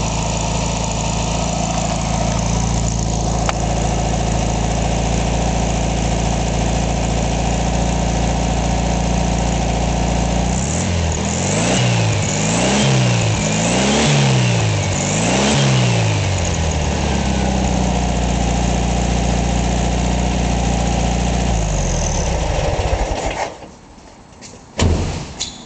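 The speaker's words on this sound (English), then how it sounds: "Got that classic VW tone to it." A 1959 Volkswagen Beetle air-cooled engine, pan-off restored, runs loud and close with a steady idle, climbs through several rhythmic revs in the middle, settles back to idle, then cuts off near the end.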